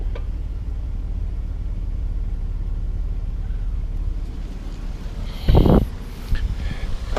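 A Cadillac CTS drives along with tires at 45 PSI, a low steady road rumble and cabin hum heard from inside, with a brief louder thump and rustle near the end.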